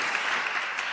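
A community audience applauds in a brief, steady wash of clapping that stays fairly loud and dense without any voices over it.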